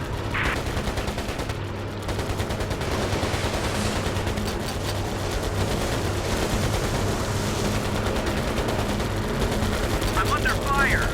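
Sustained gunfire in the Pacific air-combat game Air Conflicts Pacific Carriers, dense crackling bursts over a steady engine drone, continuous and fairly loud throughout.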